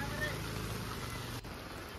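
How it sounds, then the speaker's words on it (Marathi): Heavy monsoon rain pours steadily during an outing, a dense even hiss with a constant wash of drops, loud and close throughout without a break. "इतका जोरदार पाऊस होता ना की छत्री घेऊन सुद्धा आम्ही भिजलो."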